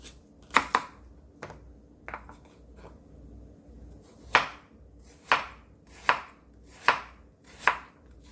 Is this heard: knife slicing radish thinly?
yes